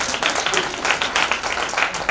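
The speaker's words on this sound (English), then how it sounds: "I think there's a hand clap for that one." An audience at a panel discussion breaks into steady, dense hand clapping, a loud continuous patter of many hands filling the room for the full couple of seconds.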